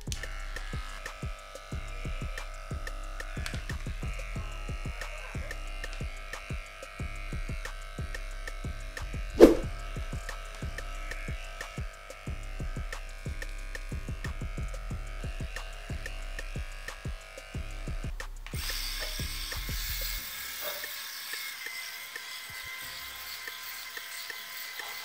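An electric shaver buzzes steadily through chest hair at close range, a continuous rapid rattle with one sharp click partway through, cutting off near the end to leave quiet room tone.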